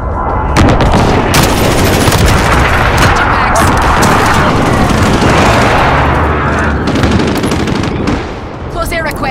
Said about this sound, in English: Friendly precision airstrike inbound.